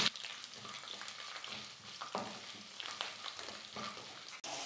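Lentils and garlic fry in a pan with a crackling sizzle and repeated scraping stirs of a spoon, close and moderately quiet, with no speech.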